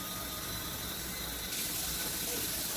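Tap water runs steadily into a sink for hand washing, a broad continuous hiss that grows slightly louder partway through, with no talking over it.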